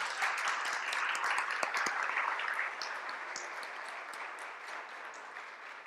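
An audience at a talk applauds a speaker, a steady spread of many hands clapping at moderate distance that softens slightly toward the end.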